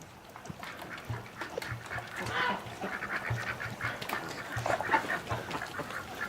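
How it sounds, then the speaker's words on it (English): Ducks quacking at dusk as they settle into their shelter, a scatter of loud, honking calls in uneven bursts over faint background rustle, fairly close, with no talk. "Okay, the ducks have gone inside."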